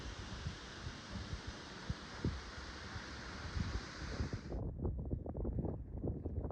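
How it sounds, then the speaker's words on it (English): Roaring water and wind at Aber Falls, a dense, loud broadband rush with low rumbling thuds, which cuts to a duller, throbbing roar partway through; no talking. "A landscape of humming pylons and roaring water."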